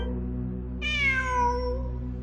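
An in-game cat in Genshin Impact gives a single clear, drawn-out meow over a steady low background hum, moderately loud and alone without talk.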